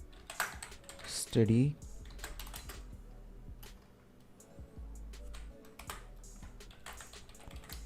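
Fingers tap out text on a computer keyboard in quiet, irregular clicks, close by and faint, with someone talking briefly over the typing.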